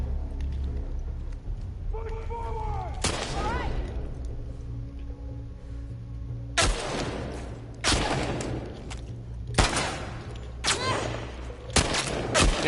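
Bursts of gunfire from The Last of Us Part II gameplay come in several sharp volleys, each dense and loud, following a quieter stretch with a steady low hum beneath.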